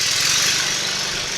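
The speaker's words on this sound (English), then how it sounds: "Lawnmower again." A lawnmower engine runs steadily close by at an even drone for a short stretch, with no voices over it, heard while work is done on the heater hoses of a 2000–2007 Chevrolet Suburban.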